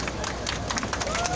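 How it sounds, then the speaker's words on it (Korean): A crowd claps at an outdoor rally, the 1400th Wednesday Demonstration over Japanese military sexual slavery, with steady dense applause mixed with murmuring voices for a brief moment. "여러분 다시 한번 큰 박수 보내주시기 바랍니다"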